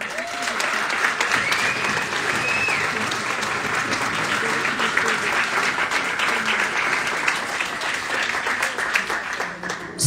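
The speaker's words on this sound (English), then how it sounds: "Please, another round of applause." A crowd applauds at a Black Business Summit gala, a dense, steady wash of clapping with some cheering that holds evenly throughout with no talk.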